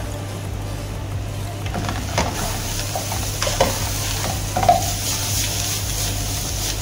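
Cardamom and spices fry in a pot for chicken majboos, with a steady close sizzle and scraping stir strokes, some soft knocks against the pot, and no talk.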